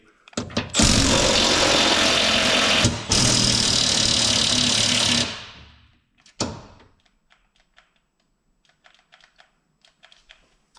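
A cordless impact tool whirs loudly in two long bursts while removing the under-tray bolts of a C8 Corvette, then winds down, followed by a brief clatter and faint tapping.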